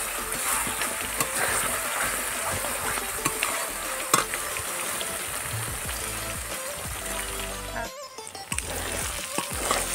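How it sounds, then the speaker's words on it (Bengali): Masala of Kashmiri chilli powder, turmeric and salt frying in oil, a steady close sizzle with stirring and spatula scrapes throughout, briefly dipping near the end. "মশলাটা আমি ভালো করে কষে নিয়েছি আর মশলা থেকে তেল ছেড়ে দিয়েছে"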